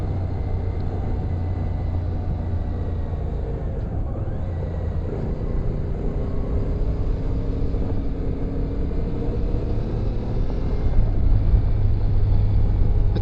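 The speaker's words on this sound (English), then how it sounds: "The people that have seen this bike have actually been very impressed when they've heard the sound of the CF Moto" CF Moto MT 450 motorcycle riding during engine run-in at moderate revs: a steady, loud low engine drone mixed with wind rumble, with no pauses and a slight swell near the end.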